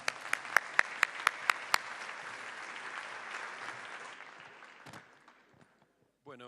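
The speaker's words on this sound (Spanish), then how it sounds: "Un fuerte aplauso y comenzamos." An audience applauds at a cultural policy forum panel: a few sharp, loud claps open a dense burst of clapping that thins and fades over several seconds, and a voice starts speaking as it ends.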